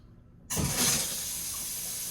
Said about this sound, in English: We have water, and it's warm on this side